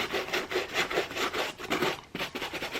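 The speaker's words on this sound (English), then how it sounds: "I prepped the surface by scrubbing with the brush just to loosen up the paint" A stiff brush scrubs firmly back and forth over a painted Nike Air Force 1 sneaker to loosen the paint, giving close, loud, rhythmic rasping strokes with no talk.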